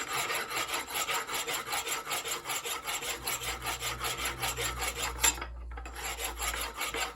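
Rhythmic rasping strokes as dirt is scraped off a metal front roller wheel of a BT Rolatruck pallet truck held in a vise, repeating quickly and evenly with a brief pause near the end.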